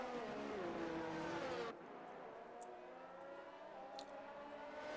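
A race car engine screams past in a sim racing sprint event at Austria, a loud, high revving drone whose pitch shifts through gear changes, then drops abruptly to a quieter, steady engine hum as it moves on.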